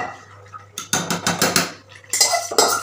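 Metal utensils clatter and scrape against a pot as fish roe goes in with boiled potatoes, a run of close, uneven knocks and clinks with brief pauses and no speech.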